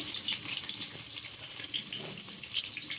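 Onions frying in oil in a pan for a dhaba-style mixed vegetable dish, giving a steady, bright sizzle that runs continuously and close throughout.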